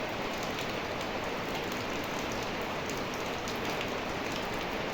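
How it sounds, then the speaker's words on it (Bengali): Morning rain falling steadily on surfaces, a dense, even patter that fills the whole stretch without a break. "দেখো, আজকে সকাল সকালই বৃষ্টি নেমে গেল। দেখো কীরকম বৃষ্টি হচ্ছে।"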